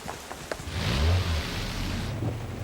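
A car engine revs up, a loud mid-range roar rising and holding for about two seconds before easing off, alone with no talk.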